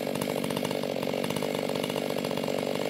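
A chainsaw running on VP 50:1 premix fuel, its dulling chain biting through bottom wood, a loud, close, steady engine snarl with a rough rapid chatter throughout, no voices.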